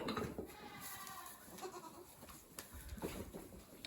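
Nigerian Dwarf goats bleating inside a barn, several close, loud cries in overlapping bursts across the whole stretch, with other animal noises and rustling between them.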